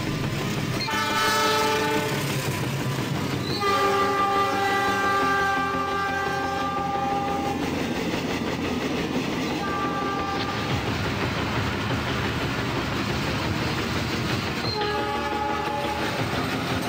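A train rumbles along steadily in Trainz Simulator 2009 while a loud horn blasts several times, with tonal, somewhat synthetic-sounding horn notes over continuous rail noise.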